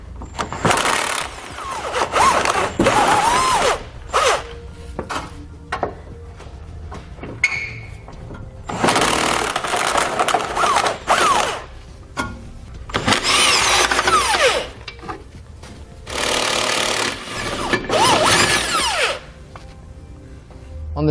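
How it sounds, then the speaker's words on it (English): Power tool work on a 2009 Nissan Rogue frame, removing tow hook bolts with an 18mm socket: repeated loud bursts of an impact or drill motor, each lasting a second or two, separated by brief pauses and metallic rattles, with no talk. "So we'll grab an 18mm socket and pull those out."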